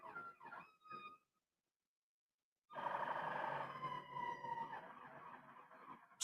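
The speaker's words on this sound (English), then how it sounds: "I apologize for the sounds from the sirens." Sirens wail outside an open window after a brief silence, a steady blend of rising and falling tones over broad traffic noise, fairly loud and continuous.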